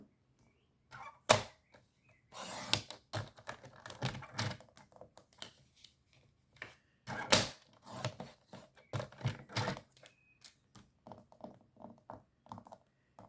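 Cutting a small piece for a forest-animal themed artist trading card craft: quiet, close snips and clicks in irregular clusters, separated by pauses and soft handling noises.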